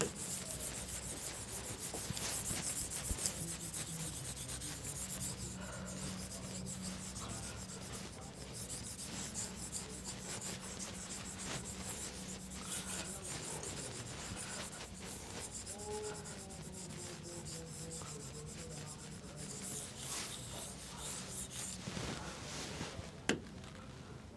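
A board is rubbed clean to wipe away a drawn economics figure in a classroom, a steady soft scraping and rubbing that runs continuously, near and moderately loud, without talk.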